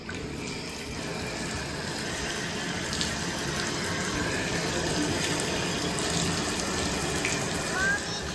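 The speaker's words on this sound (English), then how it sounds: "it's time to fill up the bath" Water runs from the tap into a bathtub in a bathroom, a steady loud rushing splash that continues without a break for the whole stretch.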